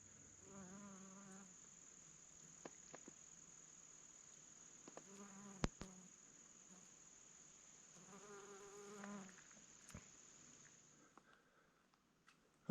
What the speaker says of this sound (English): Got a little bee moving about in the flowers here.